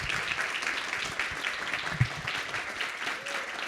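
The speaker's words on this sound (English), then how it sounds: "I'd like to give one more round of applause for our presenters today" An audience gives a round of applause for presenters at a development showcase event: a steady, moderately faint patter of many hands clapping throughout, with no speech.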